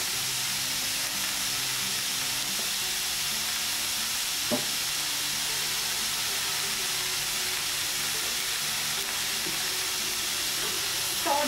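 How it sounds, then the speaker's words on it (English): Red and yellow capsicum sautéing together in a pan, a steady close sizzle with occasional stirring scrapes and a sharp clink, continuous for several seconds without speech. "Saute them all together."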